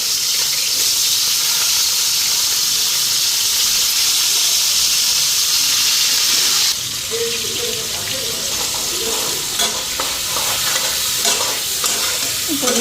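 Potatoes and cauliflower fry in a pan with a steady loud sizzle, then quieter stirring and scraping after a few seconds, with no talk.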